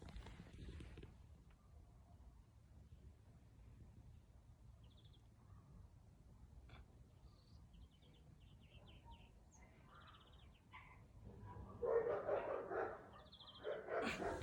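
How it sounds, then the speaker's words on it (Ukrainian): Dogs bark intermittently at a distance over a low rumbling background, growing louder and busier toward the end. "Знов ті собаки."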